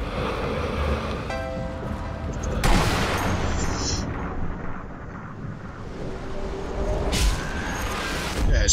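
Gunfire in the video game SE:NZA cracks out in two loud bursts, spaced a few seconds apart, over a rumbling background of in-game ambience.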